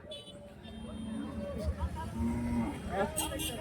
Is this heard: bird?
no